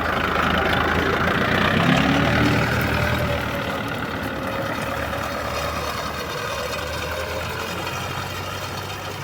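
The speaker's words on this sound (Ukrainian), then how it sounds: "Сівалка працює просто гарно." Tractor pulling a seed drill while sowing winter barley in a field, a steady, loud engine drone with continuous mechanical rumble throughout, no voices.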